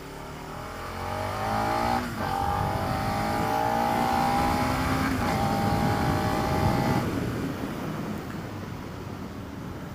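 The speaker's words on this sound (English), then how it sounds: "That V-twin makes the nicest noise." A 2016 Suzuki SV650 V-twin motorcycle engine and exhaust on a test ride, revving and rising in pitch through gears, steady and fairly close over wind noise.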